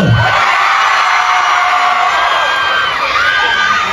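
A rally crowd at a mayoral campaign event in Pasig shouts, whoops and cheers continuously, a dense, loud roar of many voices with high yells rising over it throughout.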